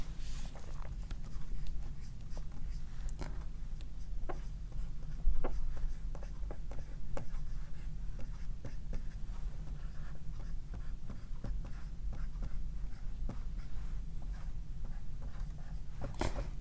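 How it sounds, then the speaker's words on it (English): Pen scratching out Korean characters by hand on paper, a steady run of small strokes and taps at close range, quiet and continuous with faint room hum beneath. "So let me write it here."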